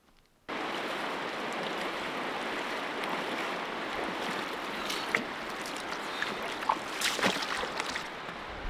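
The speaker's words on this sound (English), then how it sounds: "I can hear the river." Steady rushing water from a river in the backcountry, a constant broad wash heard close by with faint knocks and rustles on top.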